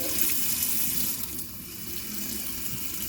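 A Moen Adler kitchen faucet runs cold water into a sink in a steady, loud, close rush, easing slightly in strength partway through.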